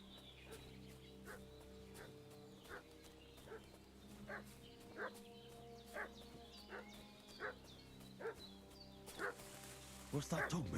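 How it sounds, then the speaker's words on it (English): A dog in the video game Kingdom Come Deliverance II barks in a steady run of single, evenly spaced woofs. The barks are moderately distant over quiet outdoor ambience, and a few faint bird-like calls come in near the end. "What's that dog making such a fuss about?"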